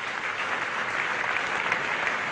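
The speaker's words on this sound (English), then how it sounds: "Round of applause for John Snow for a piece of magnificent bowling." Cricket crowd applauding bowler John Snow at the Ashes 1970-71 Fourth Test final day, a steady wash of dense clapping from a large stadium audience, even and sustained throughout with no talk over it.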